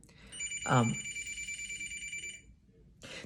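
A telephone rings with a steady electronic trill for about two seconds, a short voice-like burst cutting in near the start and another sound beginning just after the ring stops.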